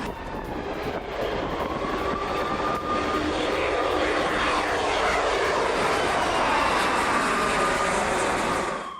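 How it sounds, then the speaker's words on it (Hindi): An F-35 fighter jet roars overhead in the sky over Tehran during a bombing raid, a loud continuous engine rumble with a shifting whine that holds steady for the whole stretch, with no voices. "तेहरान के आसमान में बम वर्षा कर रहे हैं F-35 विमान।"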